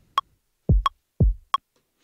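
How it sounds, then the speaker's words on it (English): A metronome clicks sharply over a simple hip-hop kick drum pattern, four evenly spaced ticks with two deep booming kicks between them, dry and alone. "If I put the metronome on, it sounds like this."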